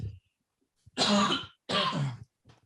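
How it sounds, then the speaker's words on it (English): Two harsh, close coughs in quick succession, with brief silence around them and no talking. "Just going to cough."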